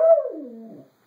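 A husky lets out a single short howl, a loud vocal cry that starts high and slides downward before fading out within a second.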